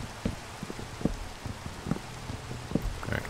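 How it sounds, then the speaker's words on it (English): Rain in the video game Minecraft falls as a low, steady patter with soft irregular taps, heard alone at moderate to faint level. "On the one night that I decided to put up all the walls, it rains."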